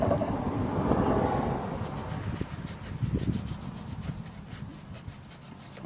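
A rag wiping lacquer thinner over a front brake caliper on a 2001 Chevy Astro or GMC Safari gives a steady close rubbing and scrubbing sound, continuous for several seconds with no talk.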